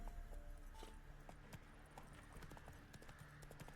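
Roach, a horse in the video game The Witcher 3, clip-clops along at a steady trot, with hoof beats repeating over a busy game soundscape throughout.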